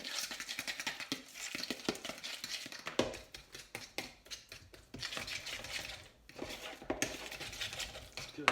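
Guacamole being mixed in a bowl with a utensil, busy close clinks and scraping taps in uneven bursts with brief pauses, no talking.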